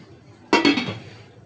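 A lid clinks onto a cooking pot of hilsa fish with bottle gourd and potato, one bright metallic clack followed by a second rattle that rings briefly and fades, close and fairly loud.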